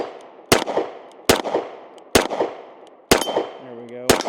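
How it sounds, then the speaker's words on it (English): Smith and Wesson CSX E Series pistol firing at a range: five sharp, loud, evenly spaced shots close by, each with a short ringing tail, and a brief tonal hum near the end. "So let's go ahead and shoot a little bit more."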